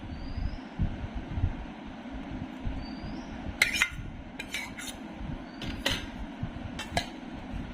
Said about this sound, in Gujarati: કેરી એડ કરીને આપણે આવી રીતે સરસ મિક્સ કરી લેશું.